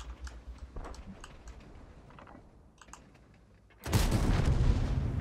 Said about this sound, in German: Ich will jetzt gleich blind schießen.